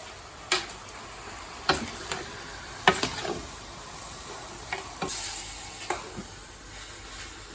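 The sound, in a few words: stirring beef stifado ingredients in a pot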